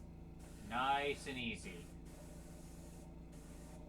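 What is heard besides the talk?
spraying tinted paint on a miniature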